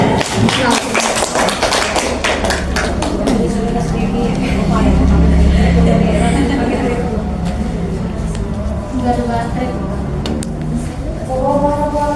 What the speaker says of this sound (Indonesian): kita beri tepuk tangan dulu untuk Budian